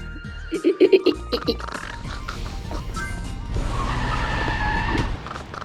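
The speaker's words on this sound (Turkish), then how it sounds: "Oğlum arabanın sesi ne garip ya." Odd-sounding car in the PK XD video game: brief squeaky tonal bursts early on, then a continuous engine whine with skidding-like texture that cuts off near the end.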